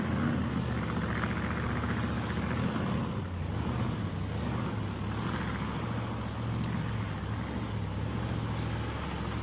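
Willys drag racing car with a big, powerful Keith Black engine at a raceway, a steady heavy engine roar sustained throughout at moderate distance, no voices.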